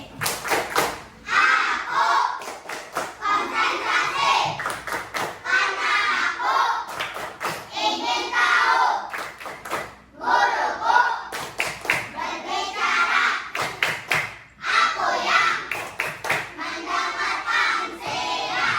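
A classroom group claps in quick rhythmic patterns, bursts of fast claps broken by short pauses, loud and close, with children's voices chanting between the claps.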